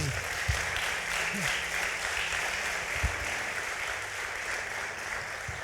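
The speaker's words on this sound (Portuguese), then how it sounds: "Ela que começa a palma no meio aí, ó." Congregation clapping during a church sermon, a steady broadband patter that runs the whole time at moderate level, with a few low voice murmurs and brief sounds mixed in.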